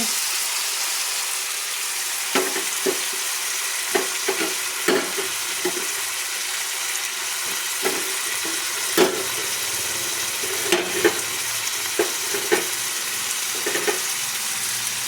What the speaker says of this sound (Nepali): त्यसमा चाहिँ हामीले अघि रहेको काटेको बन्दा र लसुनको पत्ता एकैचोटि हाल्ने